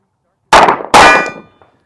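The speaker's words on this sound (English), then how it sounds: "I'm going to shoot at the human silhouette. I'm just going to go right dead center and see where the bullet goes." A Sig P365 pistol fires at a silhouette target: two loud, sharp reports less than half a second apart, the second ringing out longer before fading to silence.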